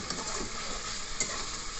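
Spice masala with Kashmiri chilli powder frying in a pan, cooked for a potato and fish dumpling curry: a continuous close sizzle with light stirring scrapes and a couple of small clinks, no talk.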